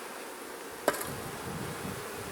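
Honeybees buzz around an open hive at a split colony, a continuous close hum with one sharp click or tap partway through and no talking.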